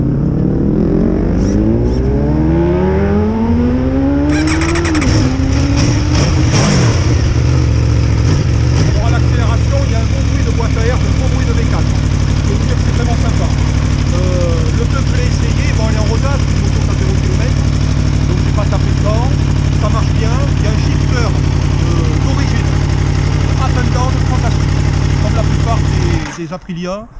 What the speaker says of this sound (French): je vais vous faire écouter le bruit avec l'échappement d'origine